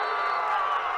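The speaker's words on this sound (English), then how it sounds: "And the crowd goes wild." Spectators at a boys' schools hockey match, Western Province A against Southern Gauteng A, roar and cheer after a goal, a dense, loud burst of crowd noise filling the short moment.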